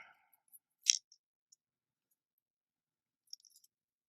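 Wire for jewelry making is cut with a single sharp snip of the cutters, followed later by faint small clicks in near silence.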